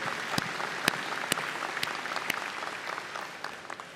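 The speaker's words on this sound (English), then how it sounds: "How about a round of applause for that incredible rendition of our national anthem?" Commencement audience at a university ceremony applauding after a brass quintet's national anthem: a broad, steady wash of clapping from a large crowd, with a few sharper nearby claps, slowly fading toward the end.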